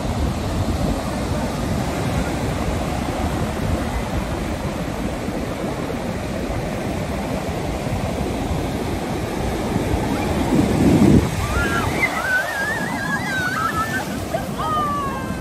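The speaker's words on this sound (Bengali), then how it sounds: "সমুদ্রের ঢেউ দেখুন।" Sea waves roll onto the beach at Puri in a continuous loud roar of surf with wind buffeting, and faint voices rise briefly near the end.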